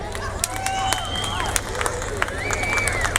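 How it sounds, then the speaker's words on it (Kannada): Audience at an outdoor festival stage clapping steadily, dense sharp claps with crowd murmur and some cheering mixed in, sustained throughout. "ಸಾಕಾಗಿಲ್ಲ ಚಪ್ಪಾಳೆ"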